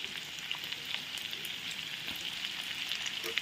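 Chopped ginger and garlic fry in a hot pan, giving a steady, close sizzling crackle with scattered small pops throughout.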